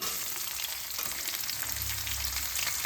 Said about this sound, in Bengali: এই পেঁয়াজটা যখন গোল্ডেন কালার আসবে ততক্ষণ পর্যন্ত আমাকে এটা ভাজতে হবে